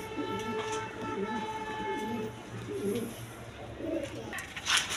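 Pigeons kept for sale at a breeder's loft coo softly in low repeated murmurs, with faint background noise and occasional light rustling.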